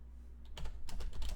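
Typing on a computer keyboard while entering code, a short run of quick, close, fairly quiet key clicks after a brief pause.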